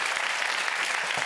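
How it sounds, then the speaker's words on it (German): Studio audience applauding on a German comedy show, a dense burst of clapping that stays even and loud throughout the short stretch. "Wir klatschen wir für die"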